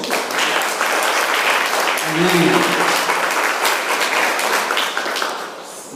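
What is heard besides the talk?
church congregation applauding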